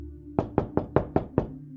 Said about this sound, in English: There is another knock at the door.